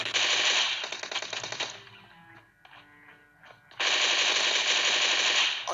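Groza assault rifle in a mobile battle royale game: long sustained bursts of rapid automatic fire, loud and close, break off for about two seconds of quieter clicks and scattered tones before another full burst resumes.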